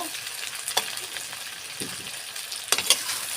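Raw green banana pieces frying in a pan with salt, a steady close sizzle broken by a few scraping knocks as the pieces are stirred, no voices.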